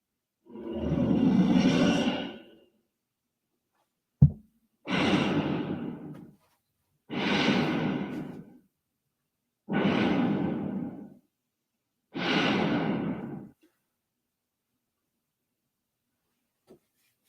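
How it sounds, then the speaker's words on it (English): Reconstructed Mamenchisaurus dinosaur call, five slow, deep, breathy rumbles like heavy snoring, each lasting about two seconds with silent gaps between, with one sharp click after the first. "that was what Mamenchiasaurus sounded like"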